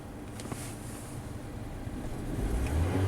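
A Mazda engine that idles poorly and runs rich (P0172) hums low and steadily, then revs up toward 3,000 RPM with a rising rumble near the end; the sound is distant and muffled, with no talking.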